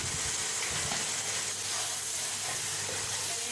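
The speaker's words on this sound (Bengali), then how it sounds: "এইভাবে কষাই নিচ্ছি।" Chicken sautéing with coconut milk in a pan for malai curry, giving a steady soft sizzle and hiss that carries on evenly, low and close.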